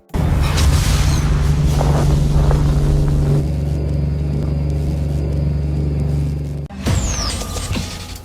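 A Chevrolet Corvette C8 on the road gives a loud, steady low engine rumble and drone that runs almost the whole time, then briefly dips and swells near the end.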